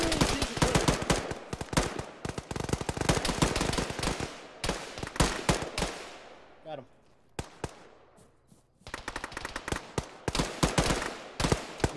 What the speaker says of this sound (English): Bush is shooting at us.